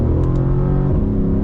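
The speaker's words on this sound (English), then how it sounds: "It has a slight delay when shifting up." A Mercedes CLS63 with a 7-speed MCT gearbox hums steadily from inside the cabin, its engine note dropping briefly as it shifts up.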